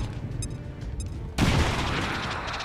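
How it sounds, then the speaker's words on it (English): Grenade detonating in XCOM 2, a single sharp, loud blast that cuts in abruptly after quieter clicks and muffled ambience, followed by a sustained rumbling, crackling decay. "Or we can launch a grenade."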